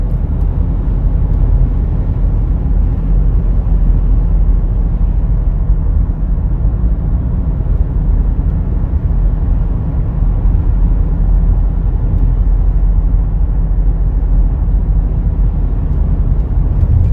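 A 2020 Chevrolet Equinox LT on Michelin tires cruises smoothly, its cabin filled with a steady low road and engine rumble that stays even and loud throughout with no talk.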